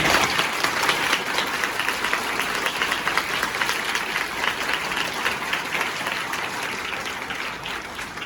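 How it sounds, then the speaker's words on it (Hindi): Audience at a Sanskrit week celebration programme giving a round of applause, dense continuous clapping from many hands, steady and fairly loud, gradually tapering slightly toward the end. "तो अपने लिए और अपने झा सर के लिए जोरदार तालियां।"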